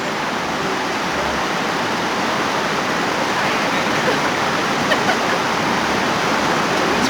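Water rushing near the Slab Fork coal mine in West Virginia, a loud, steady broadband roar of flowing water like a small falls or stream, constant and close with no breaks.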